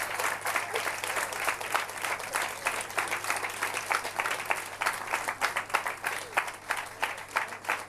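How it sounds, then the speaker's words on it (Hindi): A whole class of students clapping their hands together, a dense, steady round of applause with many overlapping claps that holds at an even level for the full stretch. "सब ताली बजाओ।"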